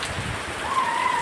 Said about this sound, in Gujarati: વરસાદ બિદડામાં ચાલુ છે.